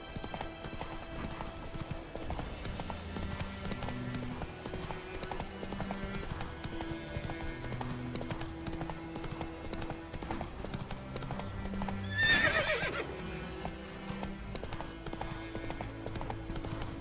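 Roach, the horse in The Witcher 3, gallops with steady rhythmic clip-clop hoofbeats over game music, and a loud whinny breaks in near the end.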